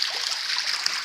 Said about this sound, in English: right now I'm in my farm trying to change the water